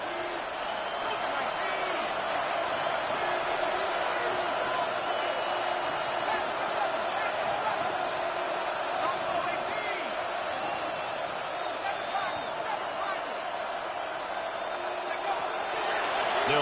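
Steady roar of a stadium crowd in a football video game, late in the fourth quarter on third and long, a constant loud wash with faint scattered shouts.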